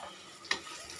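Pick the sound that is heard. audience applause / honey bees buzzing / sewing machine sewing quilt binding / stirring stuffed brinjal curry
stirring stuffed brinjal curry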